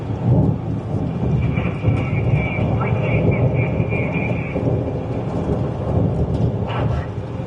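Thunderstorm near a tornado outside Watertown, South Dakota: a loud, continuous low rumbling roar with gusty noise, a voice talking briefly over it.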